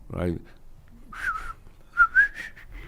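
A short burst of speech, then a person whistles a few sliding notes of a tune, a whistle hook from a song, close and fairly clear.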